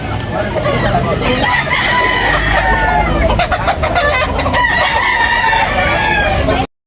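Roosters and bullstag gamecocks at a farm in Tabunok, Talisay, Cebu crow loudly and repeatedly, with clucking hens and other fowl filling the background throughout.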